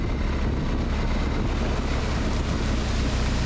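Off-road car wading through water on a rough route in Oman, heard as a steady, loud wash of splashing and churning water mixed with wind buffeting, with no clear engine note standing out.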